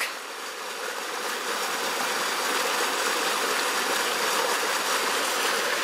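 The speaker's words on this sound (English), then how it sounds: "Look how it's gushing out from that spring that was burst further up." Water gushes steadily from a burst spring in autumn woodland, a continuous broadband rushing that stays loud and even throughout, with no talk over it.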